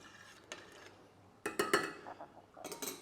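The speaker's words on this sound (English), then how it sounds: "Give it a quick stir." A spoon stirs mulled wine in a pot, making a few soft clinks and scrapes against the metal in quiet bursts with pauses between them.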